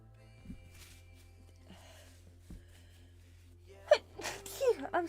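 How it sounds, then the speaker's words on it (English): A person sneezes close by during a casual game session, with a gasping intake and then a sharp burst near the end, over low steady background hum and a few faint clicks. "I'm going to start sneezing in a moment."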